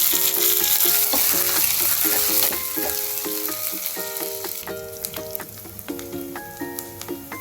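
Chopped onions and curry leaves fry in hot oil as a tempering for a jaggery rasam, giving a loud, dense sizzle that gradually eases, with sharp crackles and pops scattered throughout.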